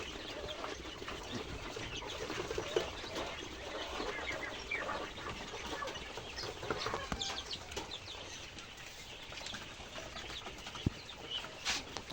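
A large flock of pet birds, around three hundred kept at a farm, keeps up a faint, steady chatter of small calls and occasional wing flutters just after being fed.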